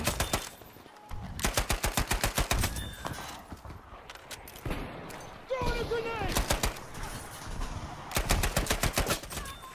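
Rapid bursts from a suppressed M3 Grease Gun in Battlefield 5, three or four quick strings of muffled, evenly spaced shots separated by short pauses and brief game sounds.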